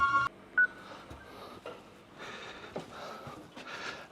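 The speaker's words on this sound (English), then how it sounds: "Phone always rings as soon as you start recording." A telephone in a car workshop, where a Subaru's rear suspension is being rebuilt, gives a few short electronic beeps near the start, followed by quiet shop background noise and soft breathing.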